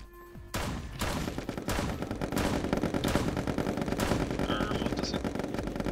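Rapid bursts of video game gunfire in Pummel Party, a dense loud barrage of repeated shots running almost without pause after a brief quiet start.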